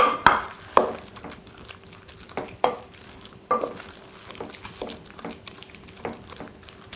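Spinach tart filling stirred in a pan, with a series of distinct spoon scrapes and knocks at an irregular rhythm over a faint background, close and fairly loud, with no voices.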